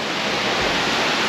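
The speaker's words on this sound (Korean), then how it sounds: "여기가 이제 여궁폭포인 것 같습니다." Yeogung Waterfall, a mountain waterfall at about 340 m elevation, roars as a loud, steady, dense wash of falling water heard up close, with nothing else over it.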